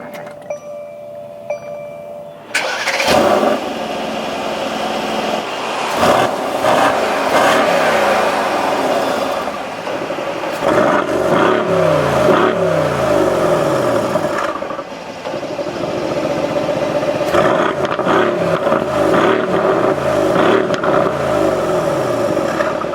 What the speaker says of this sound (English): And now inside the car with my foot on the brake, we can go ahead and fire it up.